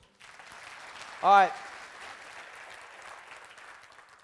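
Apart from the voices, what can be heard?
audience applause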